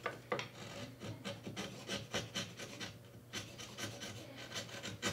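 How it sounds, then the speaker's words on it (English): Close, continuous rasping strokes of sandpaper scribe-sanding the wooden heel of a guitar neck during a neck reset, a steady back-and-forth rhythm of short rubs with no talking. "I'm going to scribe sand the heel in a minute to get this all lined back up"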